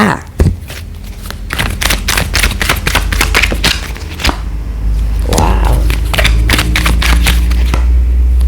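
Tarot cards are shuffled by hand in quick riffling bursts, crisp papery slaps and flutters repeating close to the microphone in an irregular rhythm, with a soft voice speaking at times.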